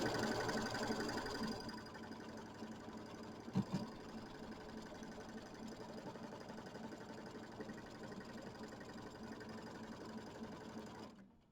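An embroidery machine stitches a tack-down line through batting for a mini quilt, a steady rapid mechanical hum and clatter held at an even level, with one brief knock partway through before it stops at the end.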